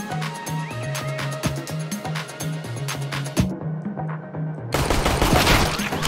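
Rapid automatic gunfire from CS:GO rattles in repeated bursts with sharp individual cracks, then a louder, denser barrage of shots near the end.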